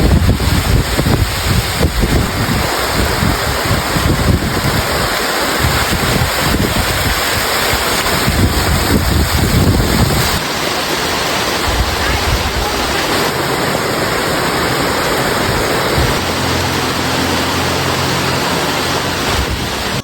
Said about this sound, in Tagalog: Nagkaroon dito ng malakas na hangin at bumuhos ang malakas na ulan.